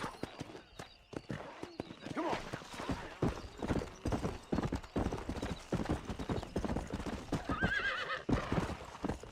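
A horse gallops in the Red Dead Redemption video game, with rapid close hoofbeats that keep running steadily throughout and a whinny near the end.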